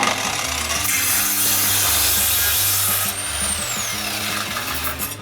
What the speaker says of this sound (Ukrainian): А так то пилка витримує велике навантаження.